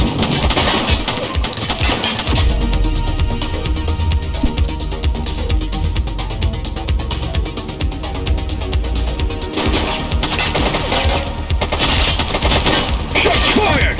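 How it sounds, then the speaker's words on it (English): Sustained automatic gunfire from a police shootout in The Precinct roars loud and continuous for the whole stretch, dense volleys with occasional heavier booms layered over the clamour. "Shots fired!"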